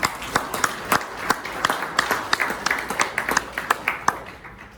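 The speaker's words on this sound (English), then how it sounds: "I want you to give yourself a round of applause." Audience applause at a symposium in Brisbane, Australia: a crowd's scattered, uneven claps with sharp individual hits over several seconds, fading slightly toward the end.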